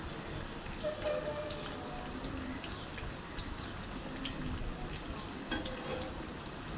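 Potato chops frying in hot oil, a steady dense sizzle and crackle with scattered pops, close and continuous throughout with no voices.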